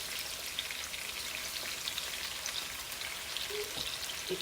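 Pork chops sear in a hot pan with a dash of cooking wine, giving a steady, dense sizzle and crackle up close with scattered small pops and no voices.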